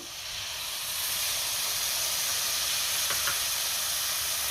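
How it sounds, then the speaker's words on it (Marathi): Whisked curd poured over green chillies in a hot pan, a steady hissing sizzle that swells within the first second and holds, with a faint brief clink partway through and no talking. "आता आपण ह्यामध्ये दही घालूया. दही मी फेटून घेतलेलं आहे"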